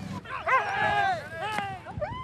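Sled dogs of a racing dog team yip, whine and bark excitedly in quick overlapping calls, close by, at an outdoor winter games event in Labrador.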